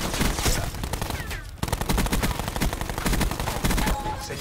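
Automatic gunfire hammers against a ballistic shield in a Call of Duty Black Ops 4 match. A dense, loud, rapid stream of impacts and shots runs almost nonstop, broken by one brief gap partway through.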